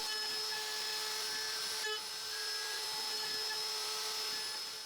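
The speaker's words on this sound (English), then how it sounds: "It's easy to vacuum once I'm done." A vacuum cleaner sucking up wood chips left by a PROVerXL 4030S rotary module, a steady, droning whine with a constant hum and faint high tones, holding level with one brief click partway through.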